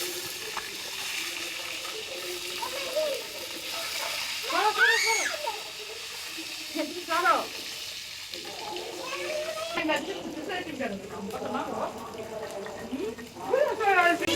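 Eggs fry lightly in a pan of oil with a pinch of salt, giving a steady soft sizzle throughout while people talk nearby.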